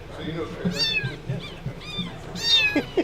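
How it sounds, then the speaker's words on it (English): A little kitten in a winery gives several short, high meows in a loose series, close by, with people talking and laughing around it. "Little kitten in the winery."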